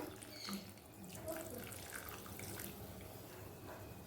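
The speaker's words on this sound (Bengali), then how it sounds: "মাঝারি কাপে এক কাপ দুধ দিয়ে দিলাম" One cup of milk is poured into a cooking pan, giving a faint, steady liquid trickle and splash in a quiet kitchen.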